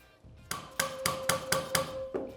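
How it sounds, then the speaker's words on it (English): A rubber mallet tapping the top of an engine valve during a Honda TRX400EX ATV top-end rebuild, six sharp evenly spaced knocks with a faint metallic ring, close and clear in a quiet room. "we want to take a rubber mallet and just tap the top of the valve"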